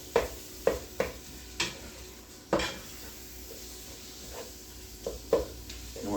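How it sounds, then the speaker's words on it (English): Ground beef browning in a pot for cheeseburger soup, with a spoon scraping and clacking against the pot in a string of sharp knocks over a faint steady sizzle, and no one talking. "You want to crumble the beef up and make sure it's not pink when it's done."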